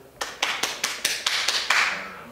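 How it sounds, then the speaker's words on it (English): An audience claps in a handful of distinct, evenly spaced bursts, each sharp onset fading briefly before the next, fairly close and without voices. "why are they clapping?"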